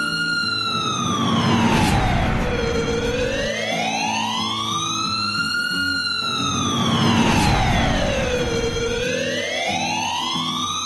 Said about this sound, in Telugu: ఆ డ్రైవర్ ఫాస్ట్ గా అంబులెన్స్ ని తీసుకువెళ్తూ ఉంటాడు